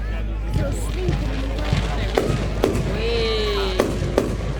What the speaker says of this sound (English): He wants to see the fireworks.